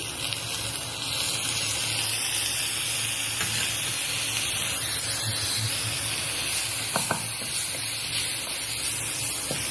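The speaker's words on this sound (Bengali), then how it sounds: "ডালটা ভাজছি এবার আমি এর মধ্যে চালটাও দিয়ে দিচ্ছি" Mung dal and Gobindobhog rice fry in a hot pan, giving a steady, close, even hiss with a few faint clicks, and no talking over it.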